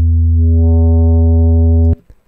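Sine wave on an FXpansion Strobe synthesizer with drive boosted, a loud sustained low tone rich in added harmonics that cuts off abruptly near the end.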